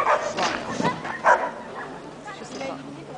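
A dog lets out a few short, sharp barks and yips close by, mixed with people talking over it.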